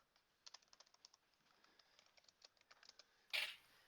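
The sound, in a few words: fierce typing on a computer keyboard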